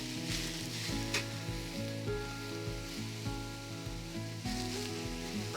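Ground meat for chili mac sizzling in a hot pan, a loud, continuous crackling fry with a rhythmic low hum underneath and occasional stirring clicks, close up.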